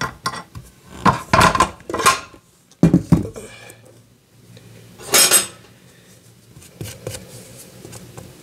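A spatula scrapes cake batter for a cinnamon vanilla pound cake around the sides of a mixing bowl in several short, close, scratchy strokes with quiet gaps between them.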